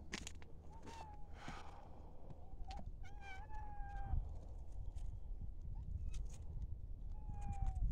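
A cat meows several times, short rising and falling cries spaced a second or two apart, fairly close over a low background hum.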